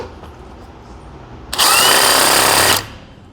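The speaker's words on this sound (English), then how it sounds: "we're going to go ahead and pre-drill the hole" A power drill bores a pilot hole during an extended shaft motor replacement, a single loud, close burst of whirring and cutting lasting about a second, against a quiet room before and after.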